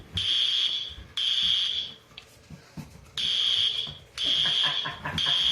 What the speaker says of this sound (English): there's a fire alarm